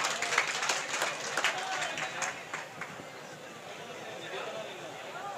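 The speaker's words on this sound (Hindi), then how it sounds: "ज़ोरदार तालियों से मोहतरमा सबिया साहिबा का इस्तकबाल फरमा दें" Audience applause at a mushaira poetry gathering in Mubarakpur, Azamgarh, greeting a woman poet as she comes on stage. Dense scattered clapping from a crowd, steady and moderately loud, slowly easing off toward the end, with voices faintly mixed in.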